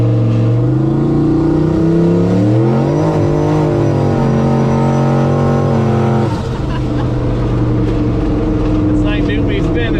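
A turbocharged LS-powered Chevrolet C10 truck drives through snow with its wheels spinning, the engine droning loud and close as its revs rise and fall, with voices talking over it.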